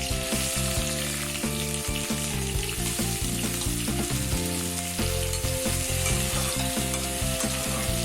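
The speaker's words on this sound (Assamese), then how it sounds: "পিঁয়াজ আৰু জলকীয়াখিনি 2 মিনিটমান ভাজি লওঁ।" Onions and green chilies fry in hot mustard oil in a kadai, giving a continuous close sizzle broken by regular scraping stirs of a spatula.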